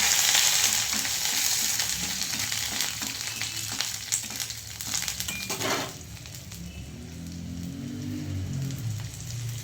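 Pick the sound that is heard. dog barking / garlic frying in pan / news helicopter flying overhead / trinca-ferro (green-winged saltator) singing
garlic frying in pan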